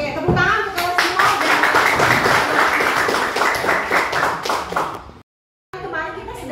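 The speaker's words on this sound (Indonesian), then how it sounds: "Oke, tepuk tangan untuk kalian semua." Students in a classroom clap together for several seconds, a brisk, fairly close patter of many hands with children's voices mixed in, then a sudden cut to silence before murmuring resumes.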